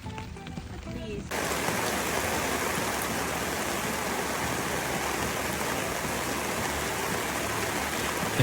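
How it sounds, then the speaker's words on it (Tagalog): Heavy rain pours down on a campsite in a dense, steady roar that starts abruptly and continues unbroken, loud and close. "inabot na kami ng malakas na ulan"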